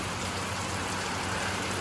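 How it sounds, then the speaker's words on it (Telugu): Rain begins falling near a church after a hot, sunny spell, a steady broadband hiss of drops on surfaces that stays even and continuous throughout, with no voices. "కరెక్ట్గా ఇక్కడికి రాగానే వర్షం స్టార్ట్ అయిపోయింది."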